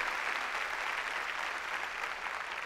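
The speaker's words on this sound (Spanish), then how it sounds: "Démosle palmas fuertes a nuestro Señor." A church congregation at a Spanish-language service claps loudly and steadily for nearly three seconds, a dense, even wash of applause with no talk over it.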